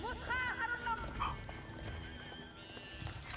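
In Age of Empires, a horse whinnies and cavalry hooves clatter in quick clip-clop steps as a scout moves, set against a busy game soundscape with voices talking underneath.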